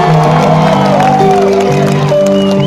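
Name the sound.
concert crowd applause and cheering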